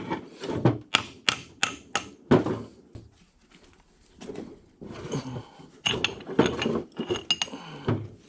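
Spindle of a K&T universal milling head sliding out of its bearing, a close series of sharp metallic clanks and ratcheting scrapes in two bursts separated by a brief quiet gap.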